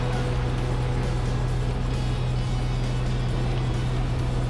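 Steady low engine drone and hull rumble from a Disney water taxi boat cruising past the Grand Floridian Resort near Magic Kingdom, a continuous loud hum with wash of water noise and no talk.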